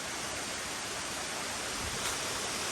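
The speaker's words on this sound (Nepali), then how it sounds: "यस्तो छ ल झरना चाहिँ तर कस्तो" A waterfall rushes in a continuous dense roar of falling water, even and close, with no voices over it.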